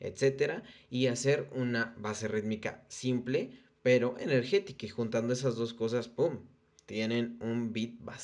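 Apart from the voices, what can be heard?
No distinct noise like a dog, phone or traffic.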